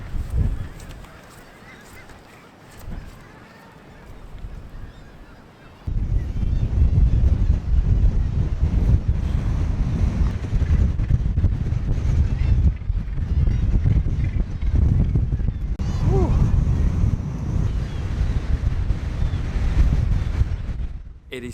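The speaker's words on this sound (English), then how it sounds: "It is so windy here" Strong wind at Bempton Cliffs buffets the camera microphone in a loud, continuous low roar that jumps up sharply after a quieter start, with seabird calls faint in the background.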